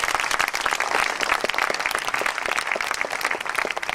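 Audience applause at an academic summer academy event, dense continuous clapping from a sizable crowd, loud and sustained with no speech over it.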